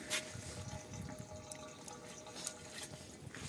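Running water at a mineral water pump room, a soft steady trickle and splash heard faintly at a distance with occasional brighter drips over a quiet indoor background.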